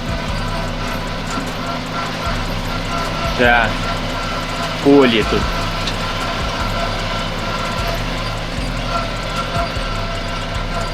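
A Japanese Mitsubishi MT200 mini tractor, its engine freshly overhauled, drones steadily while plowing a field, with a constant low mechanical hum throughout and someone talking over it.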